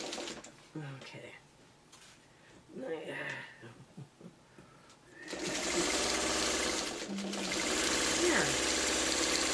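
Singer sewing machine stitching a rolled hem along a fabric edge, a loud, steady rapid whirring and clatter starting midway after a person talks quietly.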